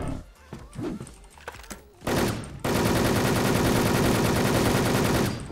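Automatic weapon fire from a shooter video game: after a few scattered clicks and a sharp blast, a loud, rapid, unbroken burst of shots rattles on for about three seconds.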